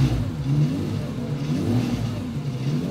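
A steer-by-wire race car on the Solitude circuit near Stuttgart drives and accelerates, its engine note rising and falling in two surges, fairly close and loud with no talking.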